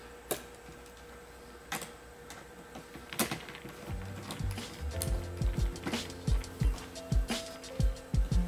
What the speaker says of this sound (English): And we screw it back together.